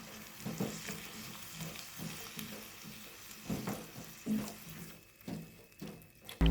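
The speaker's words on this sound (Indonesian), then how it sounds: "Aduk-aduk hingga merata." Green beans with tempe and sliced red chili sizzle and fry in a pan while being stirred, steady crackle with irregular scraping strokes throughout, close and fairly loud, no voices.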